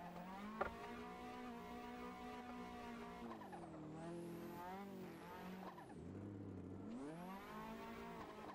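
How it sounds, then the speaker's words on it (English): Tires skid and squeal as a handbrake is pulled on a car in the racing game Assetto Corsa, with the engine droning steadily throughout and pitch dipping and rising through the slide. "I don't know why I'm obsessed with pulling the handbrake there."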